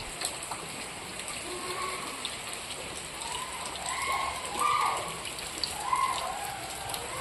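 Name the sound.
rain falling outside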